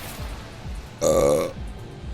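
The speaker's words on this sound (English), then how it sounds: "Okay, let me burp." One loud, drawn-out burp about half a second long from a man playing an online game, close to the microphone against a quiet background with faint game sounds.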